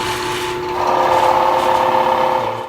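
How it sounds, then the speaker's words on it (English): A power drill whirs steadily, close by, its pitch rising slightly as the bit grinds through wood in one continuous stretch, boring holes for a shovel and rake rack. "I'm going to finish drilling my holes."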